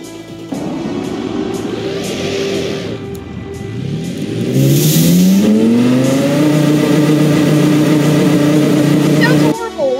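A simulated 1,300-horsepower car engine with bypass valves, revving to 4,000 RPM in the game Automation, revs up loudly, climbing in pitch and then holding a steady high drone; loud and close throughout.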